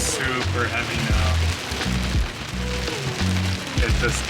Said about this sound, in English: Rain's super heavy now.